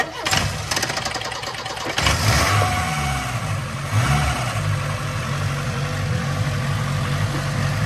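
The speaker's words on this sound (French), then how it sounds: "Je suis d'avis de déjà lancer le moteur avec le start pilote, comme ça l'essence arrive au moins à la pompe" Peugeot 205 engine started with starting fluid: a quick cranking burst, then the motor catches, revs up and settles into a rough, uneven idle close by.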